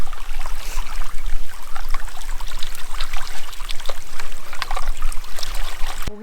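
Collected water is dumped out onto the ground beside a creek on a Grand Canyon backpacking trip, a steady loud splashing pour that runs continuously for several seconds before cutting off.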